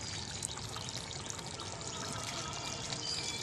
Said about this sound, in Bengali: দিয়ে দেবো আমি সামান্য ঘি